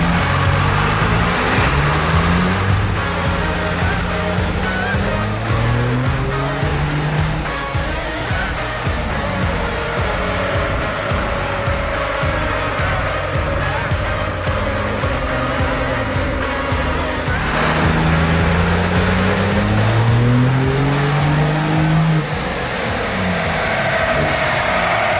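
A 33-year-old diesel pickup runs on a chassis dyno in fourth gear at 30% load, its engine droning loud and steady as it revs up in two long pulls, each ending in a rising high whine.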